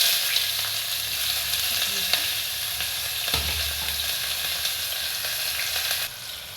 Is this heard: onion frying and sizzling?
yes